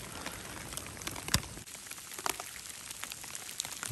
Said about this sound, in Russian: на улице дождик идет.